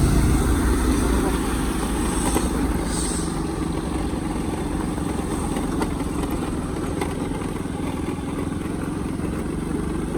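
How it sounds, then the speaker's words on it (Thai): Large vehicles travelling along Route 13 north of Vang Vieng, Laos, a continuous loud engine rumble and road noise throughout. "ก็อาจจะมีแต่รถใหญ่ที่แล่นไปแล่นมาเนาะ"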